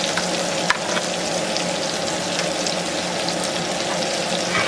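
Sliced portobello mushrooms fry in a cast iron pan, giving a close, steady, loud sizzle with a single sharp clack near the start and no speech over it.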